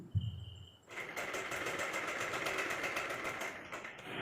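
An electric sewing machine stitching a blouse starts up after a brief bump and runs steadily with a fast, even mechanical whirring rattle, close and moderately loud, without speech.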